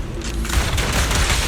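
Dense, sustained volleys of gunfire from a shooter in the video game Zenless Zone Zero, a loud continuous clatter of rapid shots and booms with no pauses.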